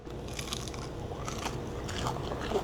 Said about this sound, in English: And listen to this crunch too.